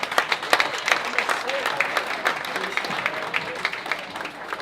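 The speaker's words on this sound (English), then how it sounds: "can I just have a round of applause for Dane Wheeler, our MC, and his suit" Audience applause for an MC at a charity lunch event, steady clapping for several seconds with some speech-like murmur mixed in.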